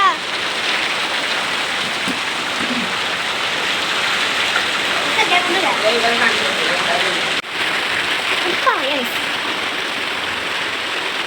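Steady, dense rain patters and hisses throughout, with faint voices briefly audible beneath the downpour.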